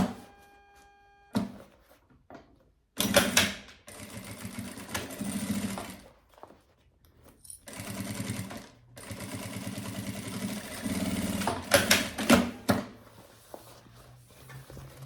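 Sewing machine stitching the seams of an embroidered fabric cosmetic pouch, running in several bursts of rapid mechanical whirring between short pauses and handling sounds, close and loud with no talk.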